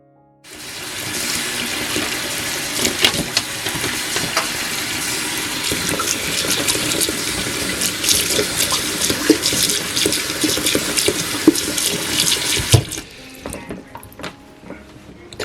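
A tap runs steadily into a sink, a loud close splashing rush that continues for most of the clip before shutting off, leaving a faint quiet tail.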